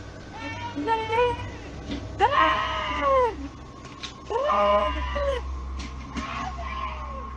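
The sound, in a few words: woman screaming for help in a recorded video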